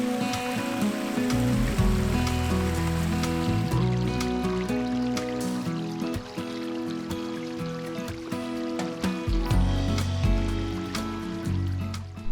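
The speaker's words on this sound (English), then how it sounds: "listen to the flowing water." Creek water at Starved Rock State Park flows and splashes continuously, loud and close, a dense steady rush with scattered drips and gurgles.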